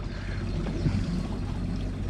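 Narrowboat outboard engine running quietly on a canal towpath, a low, steady mechanical hum with a faint watery wash, close and even throughout, no talking.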